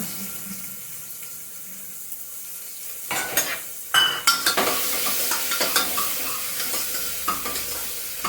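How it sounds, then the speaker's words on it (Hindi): Onions fry in a pan after coriander and cumin have been roasted, in a village kitchen. A quiet, hissing start gives way to a louder sizzle with repeated scraping stir strokes, close by. "धनिया जीरा भुनने के बाद मैंने प्याज डाल दी है इसमें"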